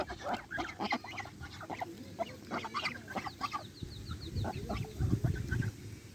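Domestic geese honking repeatedly nearby while feeding in a village, overlapping nasal calls in an irregular chatter, with soft rustling and low thumps underneath.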